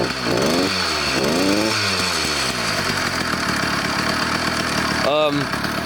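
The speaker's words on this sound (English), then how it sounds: "And it idles perfectly." A cheap two-stroke engine on a motorized bike idles with a continuous buzzing drone, rising and falling in a few quick blips near the start and once more near the end, close and loud.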